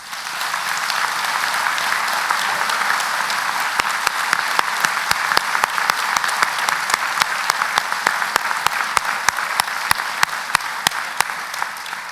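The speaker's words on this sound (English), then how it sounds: "please could you give him a round of applause?" A graduation ceremony audience claps at length, a broad, steady wash of many hands that swells slightly and stays sustained throughout, with a few sharper, louder claps standing out near the listener.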